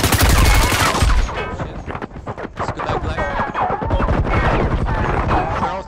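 Firewall Zero Hour gunfire opens with a loud heavy burst, then continues in close, rapid cracking volleys with impacts, while voices talk briefly over it.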